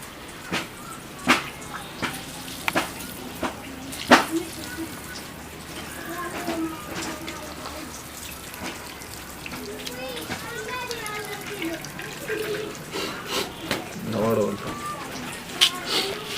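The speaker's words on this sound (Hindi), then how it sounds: "अब हमने इसको इसी कपड़े में डाल के उसका पानी जो है वो हमने इससे रिमूव" Water being squeezed through cloth out of minced seekh kabab mixture in a kitchen, a steady trickling and dripping with occasional splashes, close by, with a voice speaking over it.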